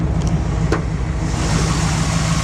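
Engine of a 1969 Plymouth Road Runner with a 383 V8, Edelbrock intake and headers, idling steadily with the hood raised; a continuous low rumble fills the short stretch, close and fairly loud, with no talk.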